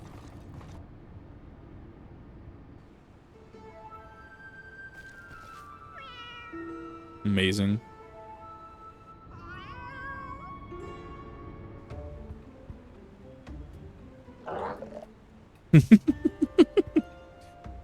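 A cat meows several times in the Final Fantasy XIV: Heavensward game, the calls rising and falling over quiet background game audio, with a brief spoken word and a creaking mechanical sound near the end.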